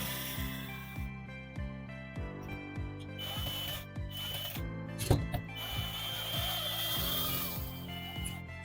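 A power drill driving screws into a wood panel while mounting a TV bracket, a steady whirring hum with repeated pitch sweeps as each screw spins in, fairly quiet and close, no voices.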